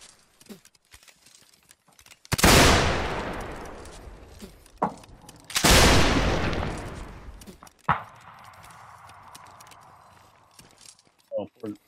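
Two loud, booming volleys of musket fire burst out in the North and South video game, each rolling off into a long decaying rumble, followed by sparse clicks, a single sharper crack and a low mechanical hum.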